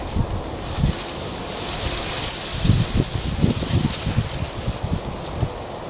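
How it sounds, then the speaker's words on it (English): Steady outdoor wind roars and rustles through leaves for the whole stretch, close and fairly loud, with gusty swells and a few low thumps mixed in. "enjoying the rustle of the wind"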